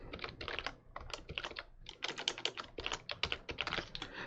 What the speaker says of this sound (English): notice that I'm just typing in a phone number in the Design View